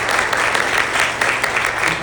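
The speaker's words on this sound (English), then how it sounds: "Everyone give a round of applause." An audience at a CUSEC 2026 conference session gives a dense, steady round of applause, loud and continuous throughout.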